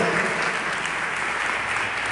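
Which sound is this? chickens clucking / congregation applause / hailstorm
congregation applause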